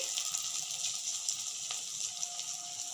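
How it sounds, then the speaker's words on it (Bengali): Bora fritters fry in hot oil with a steady, close hiss and soft crackle and bubbling that run without pause, and no one speaks. "বড়াগুলো ভেজে নিচ্ছি"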